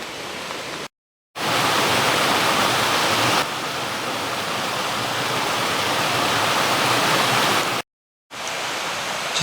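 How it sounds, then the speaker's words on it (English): Creek water rushes at a stream ford after heavy rain on the Gerard Trail in Oil Creek State Park, Pennsylvania. A dense, steady roar fills the clip, broken by two brief silent gaps. "A ford, especially after all the rain."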